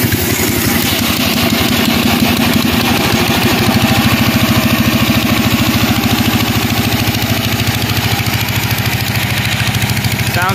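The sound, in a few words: 18 hp go-kart lawnmower engine with header starting and running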